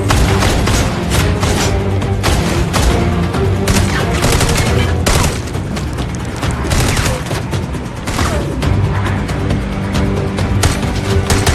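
Dense, continuous movie gunfire from a gun, loud rapid shots and booming impacts packed together without letup.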